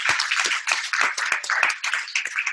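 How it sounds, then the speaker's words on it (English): An audience applauds at a lunch-and-learn talk, a short burst of sharp, distinct hand claps from a small crowd, fairly close and moderately loud. "Let's give a round of applause there."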